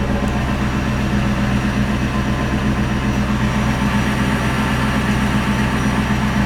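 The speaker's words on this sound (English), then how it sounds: "Very beautiful exhaust tone." Exhaust of a 2009 Ford Crown Victoria Police Interceptor with looped exhaust piping, a steady low rumbling drone heard up close and alone, constant in loudness throughout.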